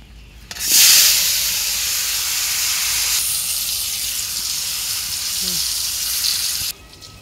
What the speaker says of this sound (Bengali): এখন বেগুন ভাজবো